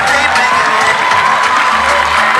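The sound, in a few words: crowd applause for a swimming demonstration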